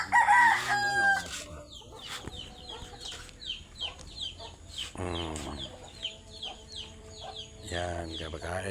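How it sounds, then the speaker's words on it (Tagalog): Many farm chickens feeding, clucking and calling, with a rooster crowing loudly at the start and again mid-way, fairly close, with scattered voices in the background. "Ang daming manok."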